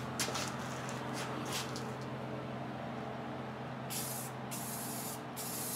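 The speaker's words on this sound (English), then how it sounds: "we spray paint." Aerosol spray paint hisses in short bursts onto a mini bike motor mount hung on wire, with several quick spritzes early on, then a brief pause and a couple of longer sprays near the end, close up and fairly quiet.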